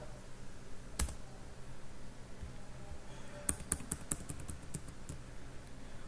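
Code is typed on a computer keyboard: one sharp keystroke early, then a quick run of light, close clicks later, all against quiet room hiss.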